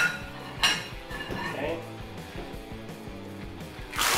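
Plates clinking and clattering as they are set out on a kitchen counter for breading eggplant, with one sharp clink near the start and another at the end, over background clatter while a person talks.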